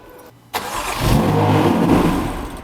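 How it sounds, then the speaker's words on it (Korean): A car engine cranks and catches with a sudden loud rise, running briefly as a steady mid-pitched hum; the car has a shorted accelerator pedal fault that makes it stall about a second after starting. "시동이 걸리는지 한번 볼래?"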